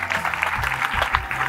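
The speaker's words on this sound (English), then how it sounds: "A big round of applause for Miss Bukola Sonuga." Audience applause at a Nigerian diaspora organization event (NIDO Americas, New York chapter), a dense, steady patter of many hands clapping throughout, fairly loud and close.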